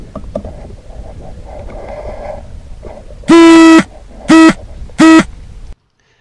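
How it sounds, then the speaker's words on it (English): Three loud electronic beeps from a recorder alarm signalling lost signal from a rifle scope, one long then two shorter, cut through a quiet background of faint rustling and handling noise during a hunt. "That's the alarm system from the recorder letting me know that there is no signal from the scope."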